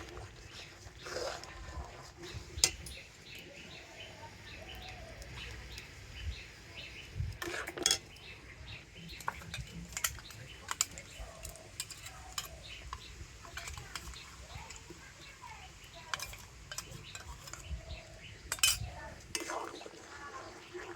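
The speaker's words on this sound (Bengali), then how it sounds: "আর এবারে আমি এইভাবে কন্টিনিউ কিন্তু নাড়াচাড়া করব" Gobindobhog rice being stirred in a pan, repeated metallic scrapes and clinks of a spoon against the pan over a faint background, with a voice talking now and then.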